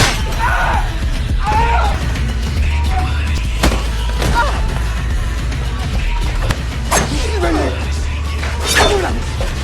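A body crashes through a glass window during a violent fight, with sharp shattering bursts over a loud, dense action scene with yelling and blows.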